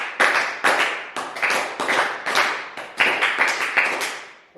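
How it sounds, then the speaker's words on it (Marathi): A school audience applauds to welcome a visiting teacher. Many hands clap in repeated rhythmic bursts, with about ten loud, close group clap volleys spread evenly across the whole stretch. "सरांचं तुम्ही 3 टाळ्या वाजवून स्वागत करावं"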